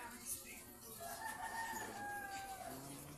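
A rooster crows in a long drawn-out call with a second shorter crow at the end, fairly close, set against a steady outdoor background hiss.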